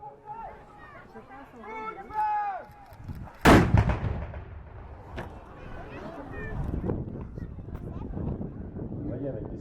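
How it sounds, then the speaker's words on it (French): A single loud cannon blast booms out midway at a medieval castle show, preceded and followed by someone talking, with rumbling echo afterward. "Coup de feu."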